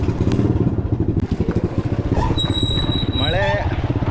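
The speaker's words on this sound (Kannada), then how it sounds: "ನೋಡಿ ಔಟ್ಲುಕ್ಕು ಚೆನ್ನಾಗಿಲ್ಲ ಇರ್ಬೋದು, ಆದರೆ ನೋಡಿ ಹೆಂಗಿದೆ ಇಂಜಿನ್ನು." An old motorcycle engine idles close by with a steady low, throbbing putter that runs throughout. A brief clatter is heard, and a high whine appears near the end.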